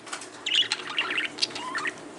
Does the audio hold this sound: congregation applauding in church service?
no